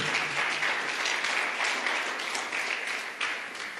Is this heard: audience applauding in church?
yes